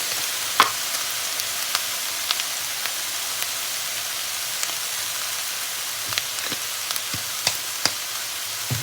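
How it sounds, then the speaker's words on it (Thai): Vegetables stir-fry in a hot pan with soy sauce and seasoning: a continuous bright sizzle runs underneath while scattered spatula taps and scrapes click through it at irregular intervals. "เดี๋ยวผัด ไปให้ ผักเริ่มสุกก่อนนะคะทุกคน"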